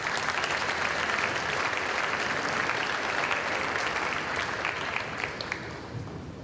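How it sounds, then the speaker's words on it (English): Applause from the audience at an annual all-sports reception, a dense, even clapping that holds strong for several seconds and then starts to thin toward the end. "a round of applause please for them as well"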